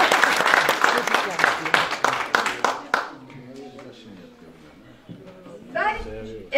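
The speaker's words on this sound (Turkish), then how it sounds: "Asıl burada alkışlayacaktınız" An audience at a lecture hall talk applauds, a dense burst of many hands clapping that fades out after a few seconds, followed by a speaker talking.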